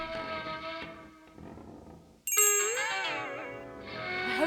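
A bell in The Night of the Rabbit point-and-click adventure game rings out suddenly as a bright, loud, shimmering tone that decays over about two seconds, following a stretch of speech.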